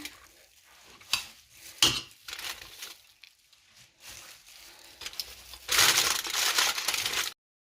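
Fried fish and chips being served onto a dish, with scattered scrapes and clinks of utensils on a pan followed by a louder stretch of crisp rustling and crunching, with no talking.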